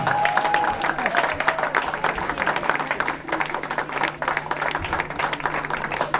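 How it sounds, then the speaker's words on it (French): Wedding guests in a hall at a religious wedding ceremony clapping and cheering steadily throughout, a dense crowd applause with a constant hum underneath. "Les hommes acclamons ces femmes."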